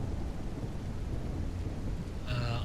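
A steady downpour of rain with a low rolling thunder rumble fills a psychological horror game set in a demonic motel. The hiss stays constant and fairly quiet, and a short tonal sound rises near the end.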